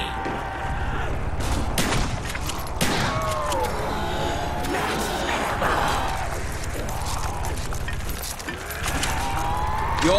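Death Machine minigun in Black Ops Zombies on the Five map, a dense stream of rapid gunfire mixed with crashes, zombie groans and game effects throughout, loud and continuous.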